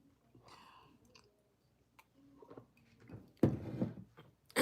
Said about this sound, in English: My daughter got the kettle chips, and they're really crunchy.